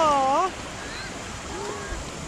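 Strong waves churn through a water park wave pool, a steady rushing wash of water that follows a brief excited exclamation from a voice at the start.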